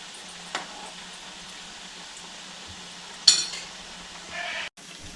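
Papaya snack frying in oil, a faint steady sizzle with a sharp clink of a utensil midway and light scraping as pieces are turned.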